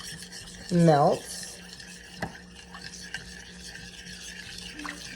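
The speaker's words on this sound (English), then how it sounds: "we're just going to give that a little stir till the sugar" A spoon stirs a tablespoon of sugar into a pot with soft, intermittent scraping and one sharper clink; a voice speaks briefly near the start.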